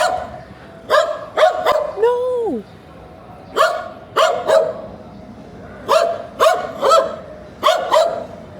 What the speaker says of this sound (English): And there's a dog here, my lord.